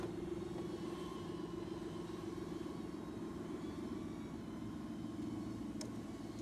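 Harley Davidson motorcycle engine rumbling steadily and loudly throughout, a continuous low idle-like drone with no speech, heard close while the bike is being tracked outdoors.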